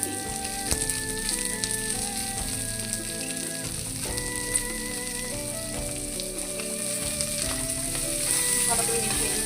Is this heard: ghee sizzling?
yes